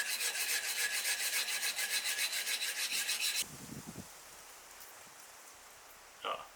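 Steady rasping strokes of a knife spine being sharpened on a TSProf Kadet Pro sharpener, loud and continuous for about three seconds, then stopping, followed by quieter handling noises and a brief scrape near the end.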